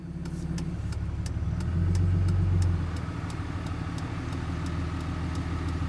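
A Foxbody Mustang fitted with a 454 big block engine runs steadily close by, its deep rumble swelling briefly as the engine revs up before settling back to a throaty idle; no voices.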